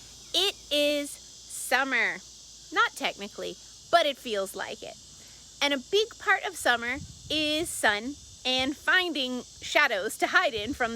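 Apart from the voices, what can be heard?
cicadas and birds in tropical summer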